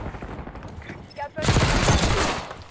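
Gunfire in Black Ops 6, first a patter of distant shots, then a loud, dense burst of rapid automatic fire for the last second and a half, with a voice talking over parts of it.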